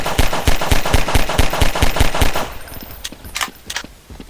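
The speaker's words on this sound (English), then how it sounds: "We're just using the Half-Life standard pistol." Rapid, evenly spaced shots from the Half-Life standard pistol in Garry's Mod, about a dozen loud close reports in quick succession, then a few scattered, quieter shots trailing off.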